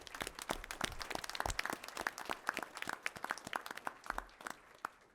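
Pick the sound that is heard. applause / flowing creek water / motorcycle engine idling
applause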